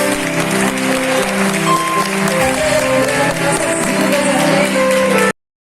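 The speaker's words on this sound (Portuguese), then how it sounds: "Aplauda a nossa Senhor Jesus Cristo." Church congregation applauding during a Communion service, the clapping blended with sustained music or singing voices throughout, fairly loud and continuous before cutting off abruptly.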